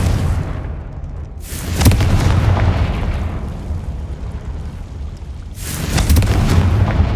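Two booming blasts from the Confringo fire spell in the Hogwarts Legacy video game, each a sharp loud burst that rolls into a rumbling tail, spaced a few seconds apart with no talking.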